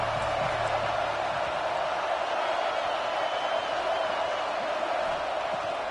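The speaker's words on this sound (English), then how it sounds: "This crowd ready to make its presence known." A steady, dense roar of a stadium crowd fills a college football video game, UCLA versus NC State, and holds at an even, loud level throughout without distinct cheers.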